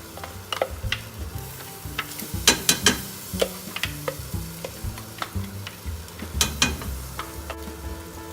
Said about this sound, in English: we're going to fry off the laksa paste